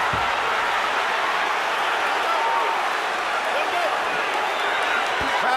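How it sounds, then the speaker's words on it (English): A loud, roaring crowd at a live professional boxing match between Andre Ward and Sergey Kovalev, a steady wash of cheering and clapping that holds for the whole stretch under a commentator's voice. "Crowd rocking and rolling"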